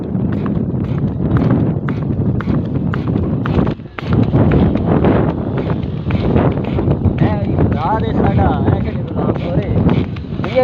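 A ridden mare's hooves clip-clop in a quick, uneven rhythm close to the microphone, with wind buffeting and people chatting over the hoofbeats throughout.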